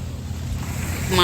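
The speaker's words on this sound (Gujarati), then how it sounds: "માધવપુર બીચ આવે છે અને અમે ત્યાં થોડાક રોકાયા છે" Sea waves breaking at Madhavpur beach, a steady washing surf with wind across the microphone, the roar swelling louder near the end.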